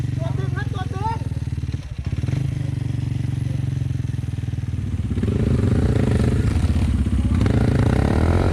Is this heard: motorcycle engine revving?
yes